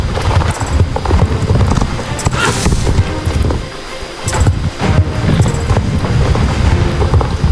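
Horse hooves clip-clop steadily at an equestrian festival, with a busy outdoor crowd murmur and scattered clatter all around and no close voices.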